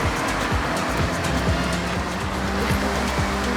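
McLaren Sabre race car in a racing video game, engine roaring with repeated rhythmic gear-shift sweeps as it speeds through the final turn toward the finish line.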